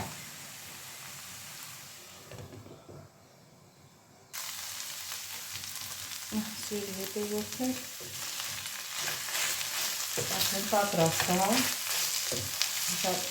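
Food sizzles in a frying pan with a steady hiss that grows louder after a brief quiet dip. A person talks over the frying midway through.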